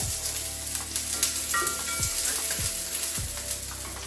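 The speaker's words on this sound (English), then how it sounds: "I've got some sliced onion, get that in. I'm going to let that soften off first." Sliced onion fries in a pan with a steady, close sizzle and crackle, punctuated by a few soft stirring knocks, with no voices.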